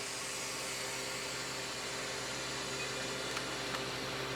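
Vacuum being released through the valve of a Harvest Right freeze dryer after a batch of cheese, producing a steady broadband hiss of rushing air that stays constant throughout, fairly close.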